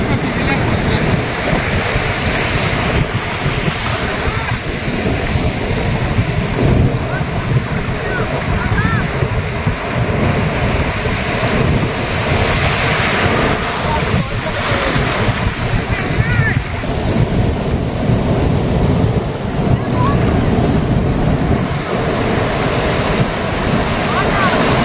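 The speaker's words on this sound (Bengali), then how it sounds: "পুরো উত্তাল ঢেউ আর এই রকম সমুদ্র।" Rough surf crashing at Bagda Beach in Odisha, with steady wind buffeting the microphone and a continuous loud wash of waves; people talk over the roar.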